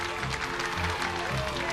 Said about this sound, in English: The children clapped and cheered.